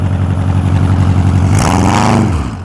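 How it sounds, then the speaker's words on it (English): A classic car with a loud, direct exhaust at the Pembrokeshire Classic Car Show burbles at a close, lumpy idle, then barks into a brief rev before settling back. "that's a very direct exhaust there"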